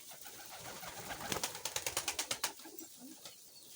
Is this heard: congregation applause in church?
no